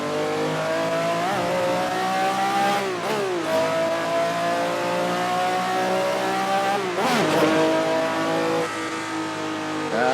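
A rear-wheel-drive, non-turbo race car in a racing game revs hard and steadily, its engine note climbing and dropping through repeated gear changes, loud and continuous with no talking over it.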